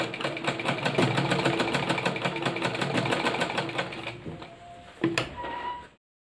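Sewing machine stitching fabric for a sleeve, with a close, steady mechanical whir and rhythmic clatter that slows and pauses, then gives a short final burst before stopping.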